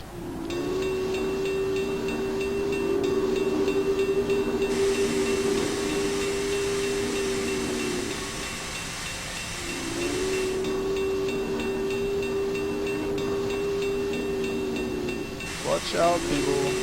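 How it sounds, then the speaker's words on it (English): Union Pacific Big Boy 4004 steam locomotive in Train Simulator 2016, a steady hiss of steam under a long sustained whistle-like tone that breaks off briefly and then returns, with faint voices. "Big boy locomotive coming through."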